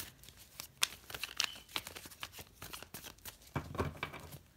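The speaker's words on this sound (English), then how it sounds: "one more shuffle" Soft papery shuffling and riffling of tarot cards, a rapid irregular series of light flicks and slaps close by, with no talking.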